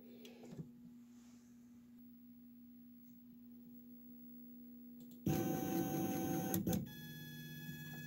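An Emco PC Turn 55 lathe homing onto its home switch and prox: a quiet mechanical hum with faint clicks, then a louder whirring motor burst and sharp click near the end, followed by steady tonal whine.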